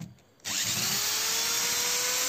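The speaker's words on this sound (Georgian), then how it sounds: "ეხა მოვიდა დრელის დრო." An electric drill starts up after a brief pause and runs loud and steady, its pitch rising slightly as it spins up.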